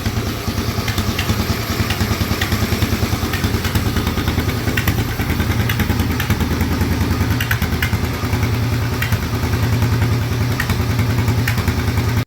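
A Norton ES2 motorcycle engine runs steadily at idle for the whole stretch, its close, loud, even thumping pulse unbroken throughout.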